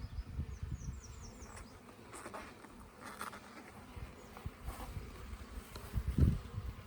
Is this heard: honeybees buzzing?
yes